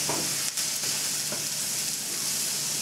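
Crumbled tofu seasoned with a few drops of Maggi sizzles and scrapes in a frying pan as it is stirred, a steady close hiss with light spatula scrapes throughout.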